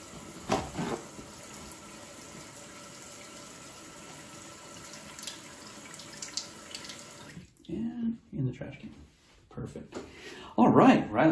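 Water running from a tap as hands are rinsed at a sink, a steady faint stream at first, then breaking into splashy bursts near the end, with people talking over it.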